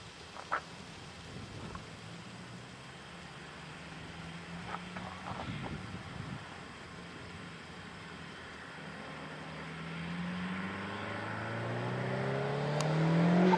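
A car approaches from a distance near an airport, its engine rising steadily louder toward the end as it nears fast, with a few faint clicks and thumps earlier on.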